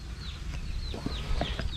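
Chickens cluck softly and repeatedly at a small Lao farm where feed is grown for chickens and ducks, with high bird chirps overhead and a steady low background hum.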